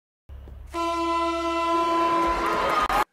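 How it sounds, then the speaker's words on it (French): A loud siren-like horn blast opens a basketball match in the animated Space Jam, a sustained harmonic tone that blares steadily for over two seconds over a low rumble before cutting off abruptly. "Le match commence avec une sirène"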